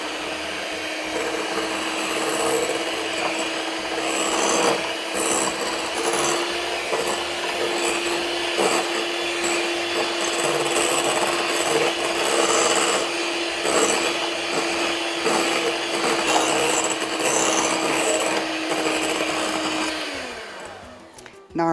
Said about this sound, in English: Now we're just gonna mix it up until it's all blended together